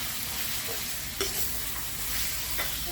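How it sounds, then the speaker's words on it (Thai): Beef pieces stir-fried with curry paste in a hot pan for a Thai jungle curry, giving a steady close sizzle with scraping stirs and a few sharper clatters of the utensil against the pan. "ผัดเนื้อก่อนเลยค่ะให้สุก ให้เครื่องแกงเข้าไปในเนื้อเลยเนาะ"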